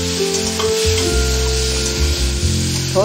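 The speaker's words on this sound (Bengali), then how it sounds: "এবার আমি এই থোরটা দিয়ে দিচ্ছি।" Banana stem dropped into a pan of frying potatoes, a steady close sizzle of hot oil with clattering stirring and a loud hum running underneath, no talk.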